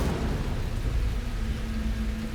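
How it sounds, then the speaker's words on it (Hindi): Rain falls with a low thunder rumble, a steady loud wash of rainfall over a deep rolling undertone with no talk. "वर्षा, ये तो अशुभ संकेत है।"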